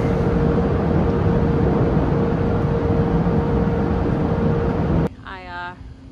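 A grain dryer on a farm running loudly during corn shelling, a steady broadband roar with a constant hum that cuts off abruptly near the end, followed by a brief voice.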